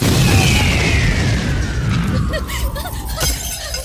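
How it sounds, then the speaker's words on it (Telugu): A loud, rumbling blast of exploding firecrackers in a comedy film scene, with a falling whistle tone, followed by crackling debris that slowly fades. "ఫోర్నాలు బాంబుల్లా ఫేలిపోయినాయి ఏంటి?"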